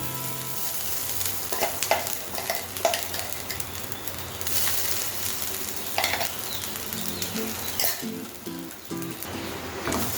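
Grated coconut fries in ghee and oil for a katla fish ghee roast. A dense, continuous sizzle fills the clip, broken by scattered stirring scrapes and light clinks.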